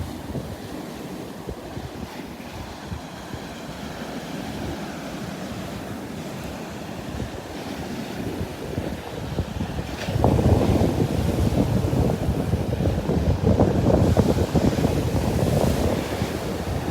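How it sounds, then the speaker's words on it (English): Small Gulf of Mexico waves wash steadily onto a beach in North Naples, Florida, a continuous surf roar with wind buffeting the microphone, growing louder and fuller partway through. "But some nice little waves."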